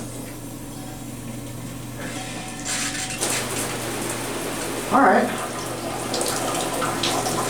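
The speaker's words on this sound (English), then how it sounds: "We'll go ahead and turn it on and test the pressure." Hotel shower at a SpringHill Suites running at full pressure, a steady broadband rush of water close to the microphone with a brief splash change partway through, while someone speaks briefly over it.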